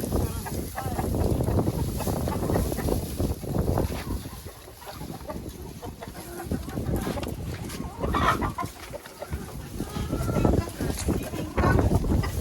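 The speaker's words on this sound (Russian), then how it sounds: "Ветер ужасный." Heavy wind buffets the microphone throughout, a steady low rumble with gusts, while chickens cluck nearby at a henhouse and someone talks over it.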